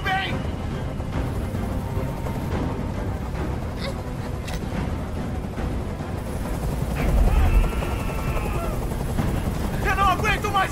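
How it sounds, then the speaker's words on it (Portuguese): A steady, droning helicopter rumble fills the scene in Detroit: Become Human, with bursts of gunfire and other game effects layered over it. "Eu não aguento mais esse barulho! Esse helicóptero tem que sair daqui agora!"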